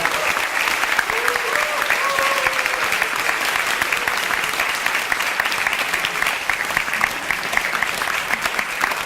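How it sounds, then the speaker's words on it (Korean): Loud, sustained applause from an audience welcoming film director Yim Soon-rye at a talk event, dense continuous clapping at a constant level, with a brief voice or tone faintly audible underneath early on. "임순례 감독님을 모시겠습니다. 큰 박수 부탁드립니다."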